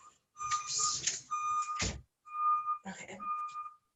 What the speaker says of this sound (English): can you hear the beeping in the background? Let me close this window. Some truck is backing up.